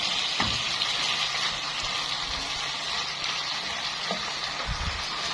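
Chopped onions frying in a pan, a close, constant sizzle with soft occasional knocks of stirring, no talking over it.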